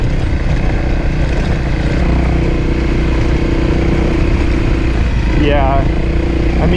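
A dual sport motorcycle cruises in second gear on the Alpine Loop, its engine holding a steady, loud drone under constant wind rush, with a brief rising whine near the end.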